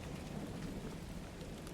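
Steady, soft rain falls continuously under a low, distant rumble of thunder, with no voices present.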